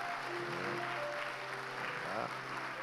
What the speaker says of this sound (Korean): 한번 절할 때 박수로 환영해 주시기 바랍니다.